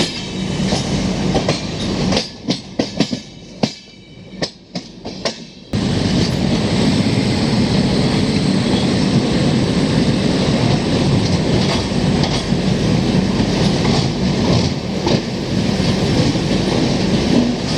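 AP Express train rolling slowly through Itarsi junction on a yellow signal, with steady rail clatter and rumble heard from on board, a broken, quieter stretch at first before the running noise settles into a continuous loud roar with rhythmic clicks.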